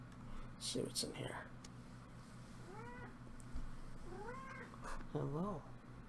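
A cat in a fantasy role-playing game gives several rising and falling meows at a fairly low level, heard alone after some brief scuffing sounds.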